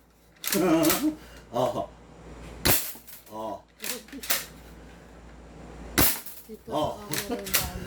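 Airsoft guns, a shotgun and a 2011 MK1 Elite pistol, fire several sharp, loud, close cracks spaced a few seconds apart, with people talking between and over the shots.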